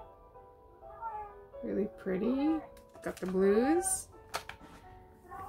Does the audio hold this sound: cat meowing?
yes